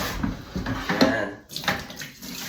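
Rice is washed by hand in water before cooking, with sloshing and swishing in a pot that comes in uneven bursts, close and fairly loud, pausing briefly midway.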